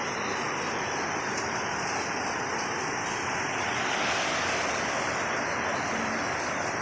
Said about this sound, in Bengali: দেখো বৃষ্টি পড়তেছে